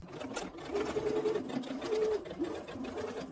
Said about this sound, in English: Stitch along the scallop shape.